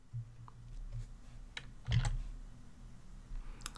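Computer mouse clicks and key taps sound at a desk while working in an Excel spreadsheet, a few sparse soft clicks with one firmer click in the middle, close and quiet with no voices.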